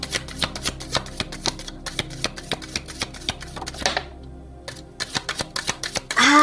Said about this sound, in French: Laisse-moi battre les cartes